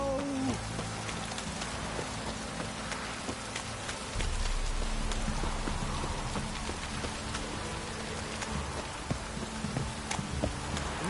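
Steady rain falls in The Witcher 3: Wild Hunt, a dense, continuous patter of drops on surfaces with a faint low rumble underneath and no talking.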